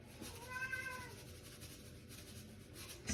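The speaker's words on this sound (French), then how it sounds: "Excusez-moi pour mon chat qui miaule." A pet cat lets out one clear, drawn-out meow in a kitchen during cooking, fairly close and alone against a low room hum, followed by quiet background.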